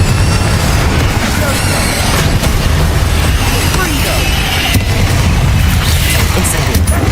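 Confringo fire-blast spells cast in the Hogwarts Legacy game burst into loud, continuous booming explosions that layer on top of each other with no quiet gaps.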